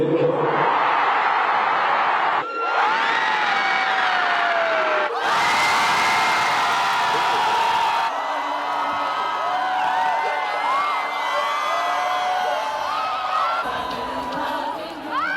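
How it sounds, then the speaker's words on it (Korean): A large crowd at a rally outside the vote on President Yoon Suk Yeol's impeachment erupts in loud cheers, whoops and shouts at the result, a dense sustained roar with individual voices rising and falling throughout. "일주일 전의 탄식이 환호로 바뀌었습니다."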